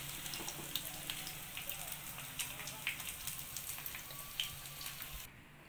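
Paneer 65 deep frying in hot oil crackles steadily, a soft continuous sizzle with scattered pops and bubbles throughout, heard close and fairly quiet before cutting off near the end.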